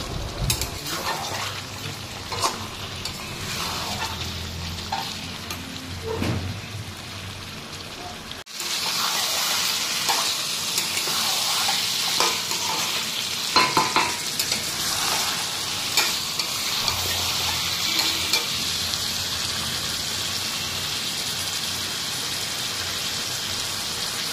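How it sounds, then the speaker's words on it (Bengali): Goat meat fries and is stirred in a covered pan, slowly browning until the oil separates. A steady sizzle runs the whole time, broken by scraping stirs, then turns louder and more even partway through. There is no speech. "এখানে দেখো অনেকক্ষণ ঢেকে ঢেকে মাংসটা কষাচ্ছি"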